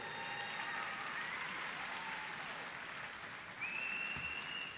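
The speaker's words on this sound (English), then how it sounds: "Would you applaud, please?" Graduating college commencement audience applauds in a large hall, a steady, fairly distant wash of clapping that holds evenly throughout, with a faint whistle-like tone near the end.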